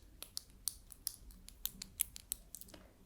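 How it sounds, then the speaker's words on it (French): Small hairdressing scissors snip in a quick irregular series of sharp, crisp clicks, very close and intimate during a soft-spoken roleplay, with no talking over them. "Et ensuite, évidemment, j'ai mes petits ciseaux."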